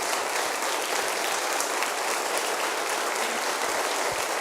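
A church congregation breaks into sustained applause, a dense, even roar of many hands clapping together that fills the room without pause.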